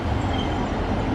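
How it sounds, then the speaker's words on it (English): A Southport train pulls into a station as a steady, dense rumble of wheels and carriages, close and continuous for the whole moment, with no voices. "So as the Southport train arrives,"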